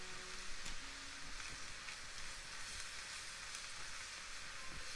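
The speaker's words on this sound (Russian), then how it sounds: "когда увидели, что лучок начинает карамелизоваться, теперь можно добавить сюда томатную пасту" Caramelized onion with tomato paste frying in a pan, for meatballs: a soft, steady sizzle fills the scene, with occasional scrapes and clicks from stirring, quiet and close.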